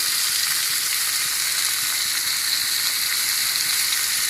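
Spices for a rohu fish curry frying in a pan with turmeric and salt, giving a loud, steady sizzle that stays dense and unbroken throughout, with no talking.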